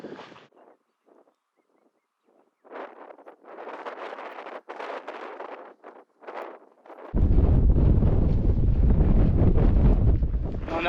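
Gusty wind in the Trout Creek Mountains desert of Oregon buffets the microphone in broken rushes, then swells into a loud, steady roar for the last few seconds.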